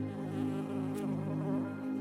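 A bee buzzes in a steady, droning hum that holds close and fairly loud for two seconds, wavering slightly in pitch with no talking over it.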